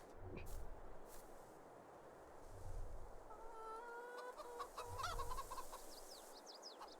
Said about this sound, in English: How about our chickens? Doing pretty good. They've got food. Chirping away.